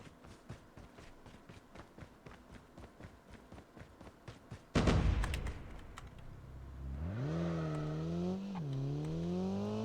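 A vehicle in Call of Duty Mobile battle royale starts up after rapid running footsteps: a loud burst, then a rising, wavering engine drone that climbs in pitch as the car pulls away, heard close and without talk.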